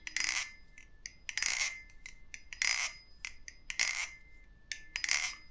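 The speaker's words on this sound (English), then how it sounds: "Definitely my best sounding Balisong right now" Bright metallic clacks and rattling rings from a balisong butterfly knife with aluminium ringer spacers being flipped, in quick repeated bursts about once a second, close and crisp.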